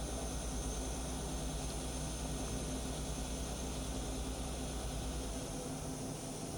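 A Hardinge CHNC-III CNC lathe spindle spins at 3000 RPM, a steady, even whirring hum with faint tonal whine, constant and moderately loud with no other sounds over it.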